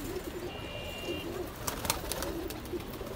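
Soft, low coos from Sialkoti pigeons repeat near the microphone, with some faint fluttering and rustling in the background.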